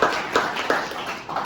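A classroom group in a self-improvement training session claps for a participant, short bursts of hand claps landing in an even rhythm at close range, with no talking.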